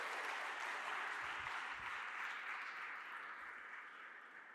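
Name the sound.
audience applauding G20 colleagues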